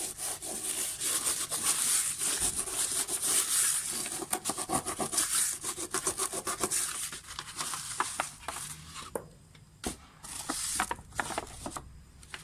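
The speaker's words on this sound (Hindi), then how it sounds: "सॉल्ट अब हम रब करके उतार देंगे।" Hand rubbing dried salt crystals off coffee-painted art paper, a loud continuous scratchy scraping in fast back-and-forth strokes that thins out into sparser, quieter rubs toward the end, with no talking.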